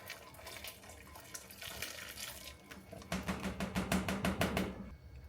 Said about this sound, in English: Keep rinsing it until that coating is gone